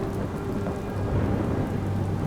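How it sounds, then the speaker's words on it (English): A heavy spring thunderstorm in Wyoming, with dense steady rain pouring on surfaces and low rumbling thunder rolling underneath, loud and continuous, with no voices. "there was a terrible lightning storm"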